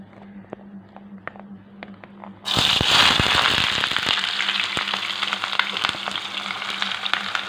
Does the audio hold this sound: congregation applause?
no